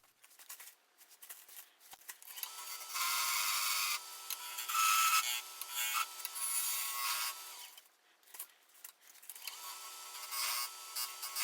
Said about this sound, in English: whatever this cut is called is working pretty well.